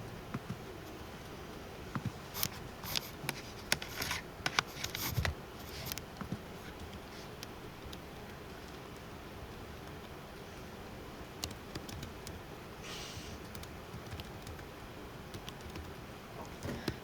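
Values are keyed into a calculator, faint clusters of small clicks and taps in irregular bursts over a low room background.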